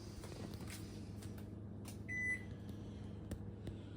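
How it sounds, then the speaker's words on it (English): Microwave oven running off a Delta 2 Max portable power station, a steady low hum throughout with one brief electronic beep partway through. "We're going to turn on the microwave now."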